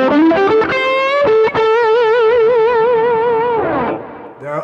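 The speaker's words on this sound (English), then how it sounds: "I'm going to demonstrate the lead tone with a high gain sound using two distortion pedals in front" A distorted electric guitar through two distortion pedals into a Milkman Sounds The Amp Stereo plays a sustained high-gain lead line, notes bending and held with vibrato, loud and upfront, fading at the end.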